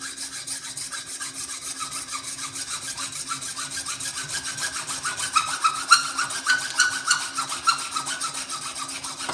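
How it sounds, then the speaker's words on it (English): Hand saw working through a deer shank bone during butchering, a steady back-and-forth rasping scrape that runs continuously and grows a little louder and grittier toward the end, close up with no talking. "I'm going to get in here and saw through the bone."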